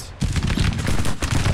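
Civil War musket fire in the Grand Tactician strategy game, a dense continuous crackle of overlapping distant shots forming a steady fusillade with brief gaps, no talk over it.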